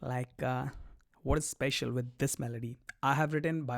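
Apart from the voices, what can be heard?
No everyday noise stands out behind the speech.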